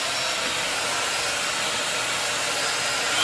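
An ionic hair dryer blows on its cold setting, a steady, loud broadband rush of air that holds constant throughout with a slight rise at the very end.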